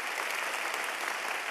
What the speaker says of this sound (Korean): 박수 한번 해야 돼